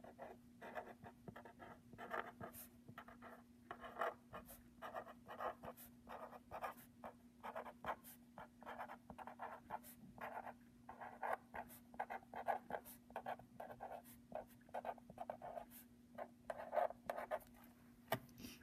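A pencil scratches and taps on paper in short irregular strokes while numbers are written out, close and quiet, with a faint steady hum underneath.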